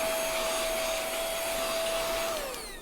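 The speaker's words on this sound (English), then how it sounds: "sometimes you just need to vacuum up your space real quick" A vacuum cleaner running in a craft space, a loud, close, steady whining roar with a constant tone that drops in pitch as the motor winds down at the end.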